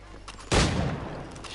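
A single loud gunshot in Assassin's Creed cracks out abruptly and decays into a rumbling tail, close and prominent over a low background.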